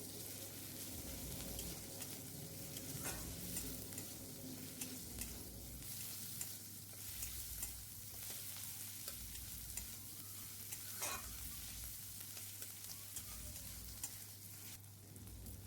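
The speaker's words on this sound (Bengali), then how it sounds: "এবার ভালো করে আমি এগুলোকে কষিয়ে নেব একসঙ্গে" Chopped tomato with a pinch of salt sautéing in a pan for a vegetable curry, a steady soft sizzle with intermittent scraping stir strokes, close and continuous with no talking.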